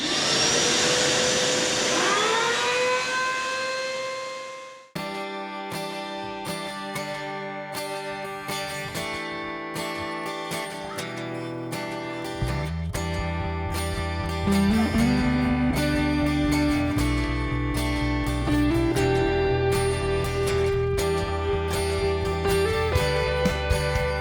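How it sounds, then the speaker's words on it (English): A cheap Azito router table cuts a channel for plywood in a boat shed, a high steady motor whine whose pitch shifts and rises in stages as the bit bites into the wood, loud and close. "With my cheap as chips little Azito router table."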